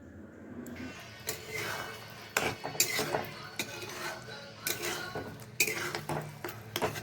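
Sugar is stirred into tomato chutney in a pan, giving scattered scrapes and knocks of a spoon against metal, some sharp clinks in between, close and moderately quiet with no talking.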